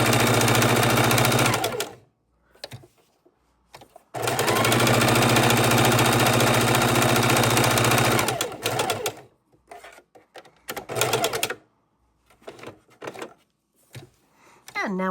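A sewing machine stitching fabric for a jar opener, two long loud runs of rapid whirring separated by a pause, followed by short stop-start bursts as the fabric is pivoted.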